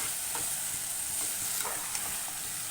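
Chopped bamboo shoot sautéing in oil with onion and tomato, a steady close sizzle with occasional stirring scrapes, no talking.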